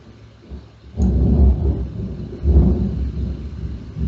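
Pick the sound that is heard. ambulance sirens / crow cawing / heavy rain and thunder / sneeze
heavy rain and thunder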